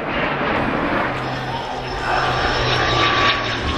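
Hawker Hunter jet with Rolls-Royce Avon engines flying at an airshow, a steady loud roar with a faint whistling howl from the engine intakes running through it, no talk.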